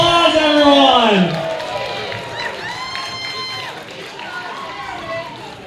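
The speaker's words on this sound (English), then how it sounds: "Give them a round of applause, everyone." An audience cheers a couple's 32nd wedding anniversary at an event, with loud whoops and shouting voices up front that ease into lighter crowd noise and scattered whistles.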